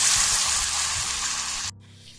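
Onions frying in hot oil with browning garlic for penne arrabbiata, a loud bright sizzle with some stirring that cuts off abruptly near the end, leaving a faint low hum.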